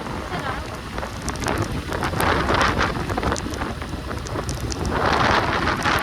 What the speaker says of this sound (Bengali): আলো ভাই ঝড় উঠছে দেখ গাড়ি টাল খাচ্ছে